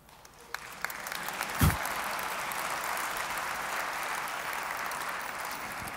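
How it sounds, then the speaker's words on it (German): Audience applause at a Shopware Community Day 2018 conference keynote, clapping that builds quickly from a few scattered claps into a steady, dense wash of hands that holds evenly to the end without talk. "Ich habe jetzt nicht auf einen Applaus gewartet"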